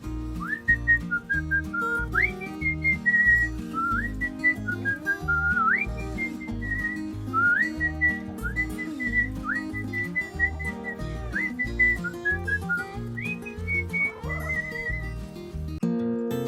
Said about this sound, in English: I want to whistle it to you right now